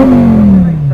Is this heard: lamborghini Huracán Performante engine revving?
yes